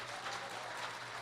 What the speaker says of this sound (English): give the restaurant, the servers, the chef, a big round of applause so loud they could hear in the back